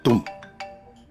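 A mobile phone rings with a bright electronic tone, a strong first burst followed by three quicker, fainter repeating notes that fade out, with a brief voice at the start.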